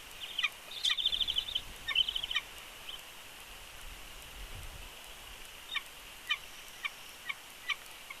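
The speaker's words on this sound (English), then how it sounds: "Dude, that bird is non-stop." An adult eagle calls repeatedly outdoors, a string of sharp high-pitched cries at a steady rhythm, fairly faint over a constant background hiss.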